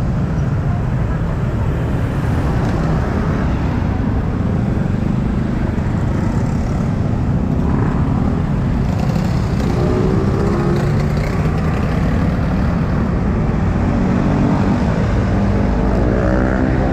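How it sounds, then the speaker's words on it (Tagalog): Busy street traffic thick with motorcycles on a cold day, a dense, steady roar of engines close by with passing vehicles swelling and fading throughout, and an occasional rising engine whine toward the end. "Accessible kasi ang motor kaya ang daming motor"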